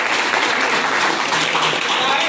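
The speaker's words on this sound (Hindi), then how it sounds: "आप लोग अपने लिए एक जोरदार ताली बजाएं।" Loud, dense applause from an audience at an employment and placement cell event, a steady wash of clapping filling the whole moment with no gaps.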